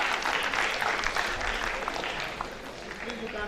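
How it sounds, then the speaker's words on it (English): A round of applause from the audience at a sociology and anthropology conference, honoring a speaker; a continuous wash of many hands clapping, fairly close and steady, fading slightly toward the end. "Please a round of applause for him."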